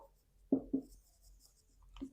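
Chalk or marker writing on a classroom board during a physics lesson, heard as two sharp close strokes followed by a fainter scrape, with no talk.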